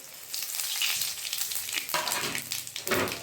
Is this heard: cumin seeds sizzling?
yes